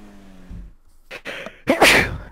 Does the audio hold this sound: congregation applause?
no